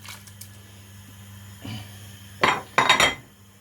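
Fried carrots scraped from a pan into a pot of borscht, with a few soft taps followed by two close clusters of clinking and scraping metal cookware, no voices.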